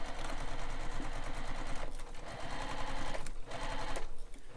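Sewing machine basting the side panels of a backpack together on a long stitch length, a fast even chatter that runs in bursts with two brief slowdowns, close and fairly quiet, with no talking.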